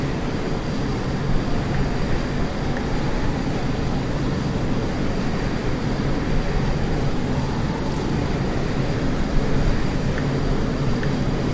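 Steady, loud broadband drone of an aircraft cockpit in Microsoft Flight Simulator 2020, an even engine and airflow roar running unbroken with no voices over it.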